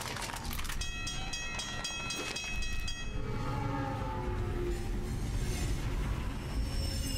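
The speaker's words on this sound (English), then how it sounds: "This ridiculous, like, train coming through over and over again." A train passes in the video game Alpha Protocol: a harmonic horn blares in several short pulses, then gives way to a loud, steady rumble of rolling wagons with faint wheel squeal. No one speaks.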